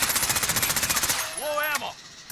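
Rapid automatic gunfire in a video game, fired during a recoil test, rattles off in a fast, even burst of loud shots for about a second. A short spoken phrase with a rising, sing-song tone follows as the shooting stops.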